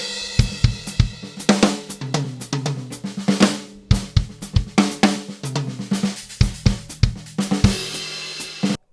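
A drum groove practised at slow speed, close and loud, with a steady pattern of kick, snare and cymbal hits and a louder cymbal wash near the end.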